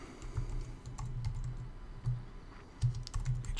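Someone types on a computer keyboard while writing HTML code, with close, irregular clusters of key clicks and short pauses, and no talking.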